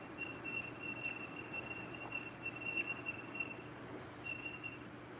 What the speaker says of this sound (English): if you hear high pitched squealing, I have pet mice, and they're on their wheel running right now.